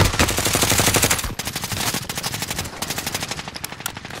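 Rapid automatic gunfire from a Call of Duty match, dense machine-gun bursts pounding almost without pause, loud and close, with a short break before more sustained volleys.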